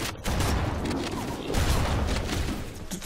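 Shotgun blasts in Halo CE Anniversary, several broad, booming bursts in quick succession amid busy game noise, with a voice faintly present.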